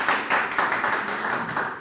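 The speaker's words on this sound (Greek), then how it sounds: "Πάμε χειροκρότημα για όλα τα παιδιά." Audience applause for folk musicians on violin, lute and tef at a televised Greek music show, a short burst of dense clapping that stays steady throughout.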